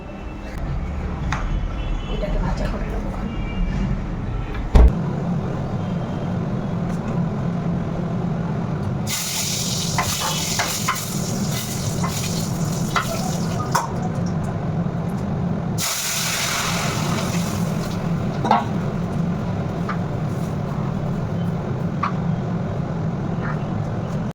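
Cauliflower frying in a pan sets off two loud bursts of sizzling hiss over a steady low kitchen hum, with quieter stretches between them.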